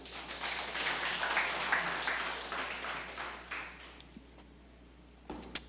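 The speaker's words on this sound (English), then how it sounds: "Let's give the Lord a round of applause." A congregation at a Catholic community worship gathering applauds, with mixed clapping that is fairly quiet and moderately distant, fading out after a few seconds and ending in a few scattered knocks.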